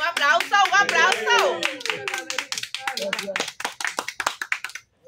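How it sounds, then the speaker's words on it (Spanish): A small group claps for a child's drawing, with dense close hand claps that thin out to scattered claps and stop. Voices talk over the start. "Muy bien, un aplauso, un aplauso"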